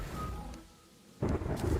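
Rain and a low thunder rumble from the game Terraria, soft at first, dipping, then swelling into a louder roll at the end.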